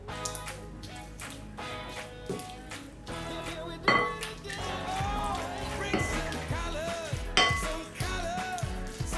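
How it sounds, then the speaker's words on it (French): Clinking of a utensil against a bowl while avocado and salmon salad is mixed with lemon juice and a pinch of salt, irregular close taps and scrapes under a steady musical background. "Et mélangez le tout."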